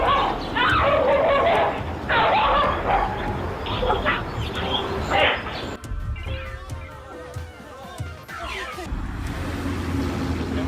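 Dogs bark and snarl loudly in an agitated scuffle, followed by yips and whimpers, with some background noise and possible voices mixed in.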